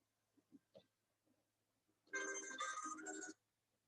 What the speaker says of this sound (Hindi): एक फोन बज रहा है।